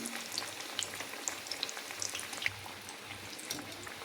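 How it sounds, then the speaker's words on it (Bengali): Oil sizzles and crackles continuously as egg-dipped food deep-fries until reddish, with scattered small pops over a soft, steady bubbling. "এরকম ডুবো তেলে একটু লাল লাল করে ভাজবো আমি"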